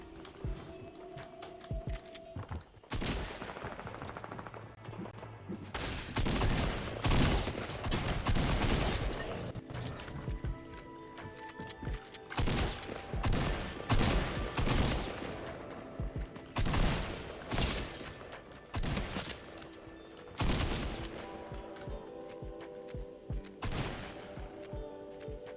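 Rapid Fortnite gunfire, loud and sustained, with dense bursts of automatic fire and repeated single shots packed close together, plus scattered footsteps and mechanical clicks in between.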